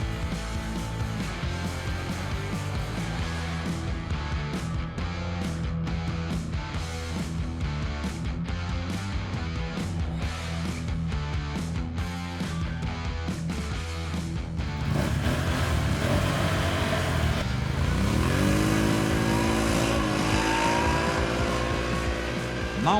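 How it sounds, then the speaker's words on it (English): A Sharmax 1000cc Chinese ATV accelerating hard on a road, a loud, close engine roar climbing through the revs with a shift-like change partway through and rising pitch toward the end, no talking. "We are checking out here the acceleration of the quad at the same road."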